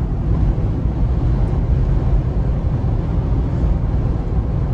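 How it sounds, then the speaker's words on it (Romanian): Strong winter blizzard wind on a snowy road in Latvia, roaring as a dense, constant low rumble and buffeting with no clear breaks. "Probabil că auziți și voi vântul cum bate."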